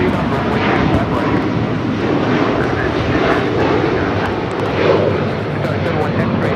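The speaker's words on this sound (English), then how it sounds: "heavy Airbus departing off the parallel runway" A heavy Airbus jet departs from a parallel runway at Los Angeles International Airport, its engines a loud, broad, sustained roar that fills the whole stretch without pause.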